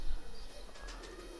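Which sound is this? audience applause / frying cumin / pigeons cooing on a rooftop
pigeons cooing on a rooftop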